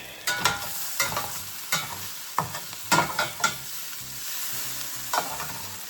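Beef and onions sizzle loudly in a pan for steak burritos, a constant frying hiss broken by repeated sharp scraping clicks of a utensil stirring the meat, close and without talk.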